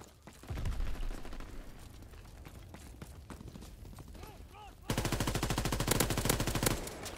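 Rapid automatic gunfire in the World War II shooter game Call of Duty: WWII, with sustained bursts throughout and a louder, denser volley of rhythmic shots near the end, under occasional talk.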